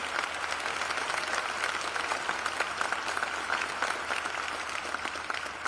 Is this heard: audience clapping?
yes